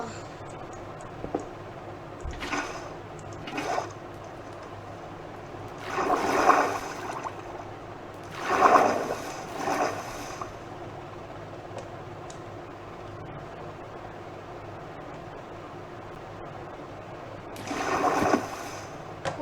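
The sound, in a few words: water being poured in Minecraft, from a video game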